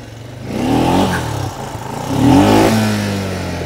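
A four-wheeler ATV in two-wheel drive climbing over a trail obstacle, its engine revving up in two rising surges with mechanical clatter, loud and close.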